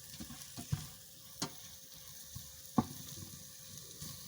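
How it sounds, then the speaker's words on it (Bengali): Spiced chicken fries for a chicken roast with a faint, steady sizzle, while a spoon stirs and scrapes the pan in a few soft, irregular knocks, heard up close with no voices. "এখন আবারও খুব সুন্দরভাবে নেড়ে ছেড়ে দেব"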